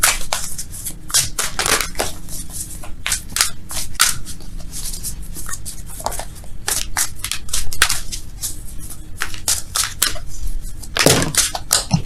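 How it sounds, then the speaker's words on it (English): Tarot oracle cards shuffled by hand, a steady run of crisp riffling slaps and snaps repeating close up for several seconds, with no talking. "Let's shuffle for real, though."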